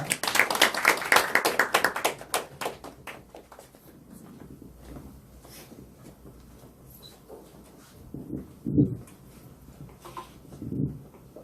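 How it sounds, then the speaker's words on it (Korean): A church audience claps to welcome a missionary speaker. A dense burst of applause lasts about two seconds, then thins into scattered claps and fades into quiet room noise with a few faint knocks. "앞으로 소개할 때 박수로 맞이하겠습니다"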